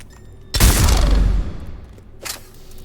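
A single heavy Executioner pistol shot from Mass Effect 3, a loud close boom with a long rumbling tail, followed by a brief mechanical reload clack.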